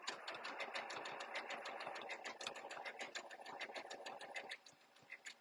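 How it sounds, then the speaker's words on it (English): A sewing machine runs fast and steady through a shell tuck hem on a camisole, its rapid needle clatter continuous for several seconds before easing slightly near the end. "The machine lock the stitches and cut the thread."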